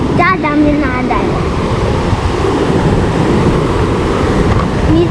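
Rough sea surf pounds a beach during a typhoon, a loud and continuous roar of waves mixed with wind buffeting the microphone, and brief voices at the start.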